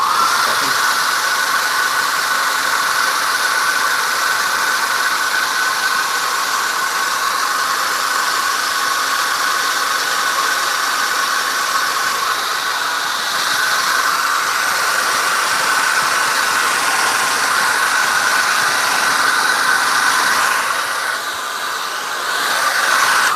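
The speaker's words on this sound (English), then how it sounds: "I'm going to use a hairdryer." A hair dryer blowing continuously for a long stretch, a steady loud whirring hiss close by that shifts slightly near the end.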